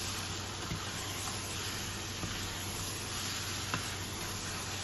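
Lamb pieces sizzle in a pan of caramelized onions for a lamb vindaloo curry, giving a steady, soft frying hiss with a few faint clicks and pops and no voices.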